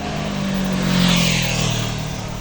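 A motorcycle passes by on a road during a group training ride, a steady engine drone swelling and fading as it goes past, with no talking over it.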